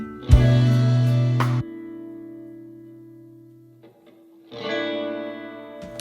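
Sustained electric guitar chords ring out through a warm Vox AC30 valve amp, recorded with room mics, decaying into a long tail before another strum swells in.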